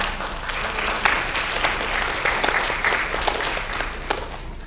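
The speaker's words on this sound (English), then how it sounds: "I would like to give Ms. Johnson a round of applause" A room full of people at a school advanced programs information night applauds for Ms. Johnson, with continuous clapping and distinct individual claps standing out throughout.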